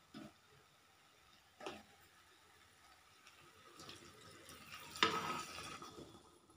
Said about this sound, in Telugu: ఇప్పుడు ఇందులో వాటర్ పోసుకుందాం ఫ్రెండ్స్.